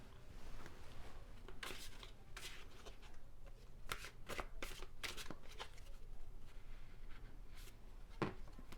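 Tarot cards shuffled by hand in a quiet room, with repeated crisp riffling bursts and soft slides that come at an uneven pace, ending in a sharp snap near the end.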